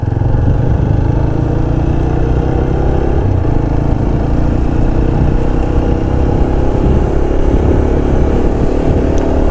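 A motorcycle riding on a road between Kudalur and Cumbum in the Theni area, a steady loud engine drone with heavy wind rumble throughout and no clear speech.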